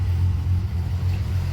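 A rebuilt car engine with a Nic cam and 1.65 rocker upgrade idles steadily after its first start, a low continuous rumble up close with no surging and no voices.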